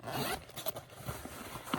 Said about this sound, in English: the main compartment of the bag does open with 2 zippers